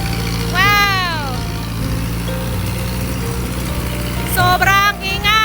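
Rice harvesting machine on a farm working hard, a loud continuous low engine drone and rumble, with a person speaking briefly over it twice.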